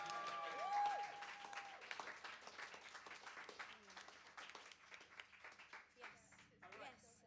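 An audience applauds and claps at a live music gig, a steady wash of clapping from a crowd that gradually thins out and tapers off.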